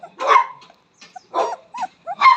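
A puppy lets out a series of short, close, high yips and barks in separate bursts, with brief quiet gaps between them.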